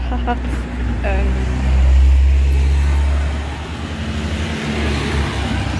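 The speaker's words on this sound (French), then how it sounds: "il y a des voitures qui passent" A car rumbles past nearby, its low engine noise swelling then fading, followed by more distant traffic hiss.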